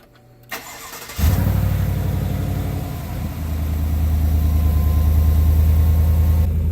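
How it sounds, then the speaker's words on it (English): A 2019+ Chevrolet Silverado with a 5.3 or 6.2 V8 and a Cold Air Inductions intake cranks briefly, catches with a loud roar, then settles into a steady, deep idle. "Now the last thing to do is just start the truck, see how it goes."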